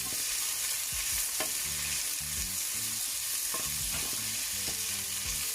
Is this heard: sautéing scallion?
yes